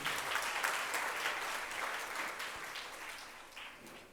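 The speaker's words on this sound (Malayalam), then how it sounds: "ഇന്നിവിടെ കൂടിയിരിക്കുന്ന എല്ലാവർക്കും ഒരു കയ്യടി കൊടുക്കുമെന്ന് ഞാൻ ആഗ്രഹിക്കുന്നു" An audience at a Malayalam community day cultural programme applauds steadily for about four seconds, a dense wash of clapping that is fairly faint and slowly fades, with no voices over it.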